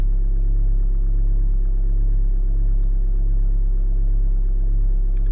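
A Volkswagen 1.9 TDI ALH diesel engine idles after a cold start at -15 °C, giving a steady, close, loud low rumble with an even diesel clatter and no voices.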